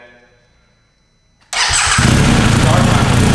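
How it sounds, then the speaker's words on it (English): A BMW motorcycle engine starts abruptly after a near-silent pause, catching at once and settling into a loud, steady running roar close by, with no talk over it. "turn on my motorcycle"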